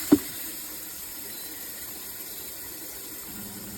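A single sharp click, then a steady, quiet hiss of water running through a SimPure Y7P-BW countertop reverse osmosis water filter, with a faint low hum near the end.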